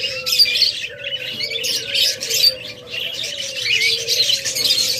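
Rainbow lorikeets of assorted colour mutations chirp and squawk in a bird-sale aviary, a dense, continuous chorus of shrill calls with a steady low hum underneath.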